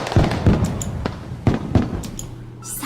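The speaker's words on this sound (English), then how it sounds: "As the fireworks went up one after another, Chisa and I watched speechless." Fireworks going off one after another in a video game beach scene, several sharp loud bangs spaced irregularly with crackling tails, fading into a faint fizzing at the end.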